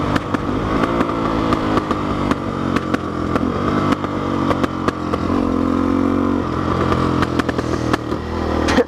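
Suzuki DRZ400SM motorcycle engine running steadily up close, a loud continuous idle with irregular clattering ticks throughout and a brief shift in pitch midway, with no talking.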